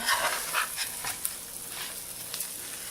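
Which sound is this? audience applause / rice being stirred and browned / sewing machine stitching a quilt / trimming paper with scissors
rice being stirred and browned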